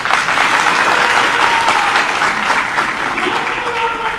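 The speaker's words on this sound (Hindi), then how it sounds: "जो आज खुलकर ताली बजा सकते" Sustained audience applause at a political rally in Rampur, a dense, steady clapping from a large crowd that fills the whole stretch without pause.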